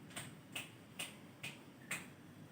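Fingers snap five times at an even, unhurried pace, each snap crisp and close against a faint background hiss, with no talking.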